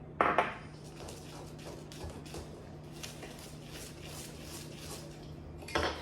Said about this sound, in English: I'm going to add the tea, whisk it in, a little bit at a time.